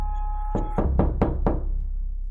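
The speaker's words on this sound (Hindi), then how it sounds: "दरवाजे के पास पहुंचते ही सोन दरवाजे को खटखटाता है।" Five firm knocks on a wooden door in a quick, even rhythm, close and clear over a low steady background hum.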